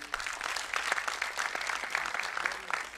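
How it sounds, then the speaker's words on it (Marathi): A crowd claps steadily for a world-record announcement of 365 interviews in 365 days, dense applause filling the whole stretch with no voices on top. "या विक्रमासाठी जरा एकदा जोरदार टाळ्या होऊन जाऊ दे"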